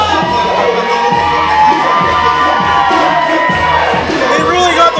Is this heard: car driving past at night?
no